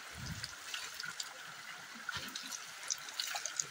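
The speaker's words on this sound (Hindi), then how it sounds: "मैं थोड़ा यहाँ पर पानी भर लेती हूँ" A small mountain stream in the hills runs low as water is collected from it, giving a faint, steady trickling wash with a couple of soft splashes and no talking.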